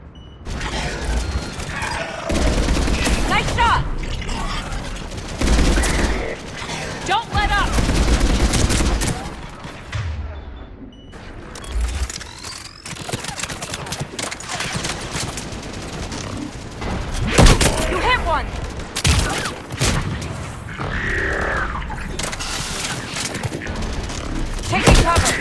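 Rapid gunfire fills a Mass Effect 3 firefight on Thessia, with repeated automatic bursts and heavy impacts coming in waves and brief lulls between them. Shouted voices break in over the shooting.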